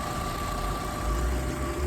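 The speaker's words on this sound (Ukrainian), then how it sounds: "Моторчик рівно працює." A 2000 Volkswagen Golf 4 with a 1.6 petrol/gas engine idles steadily at close range, a smooth continuous hum with a faint tonal whine and no voices.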